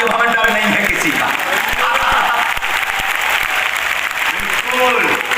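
A crowd of devotees at a religious gathering in Bhiwandi clapping loudly and steadily throughout, dense applause with a voice speaking over it.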